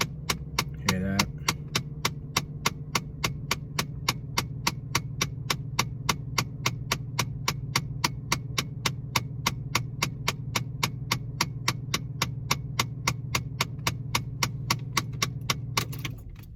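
The air door actuator in a 2006 Dodge Charger clicks rapidly and evenly, dozens of crisp ticks in a steady rhythm over the low, constant hum of the car with the engine running.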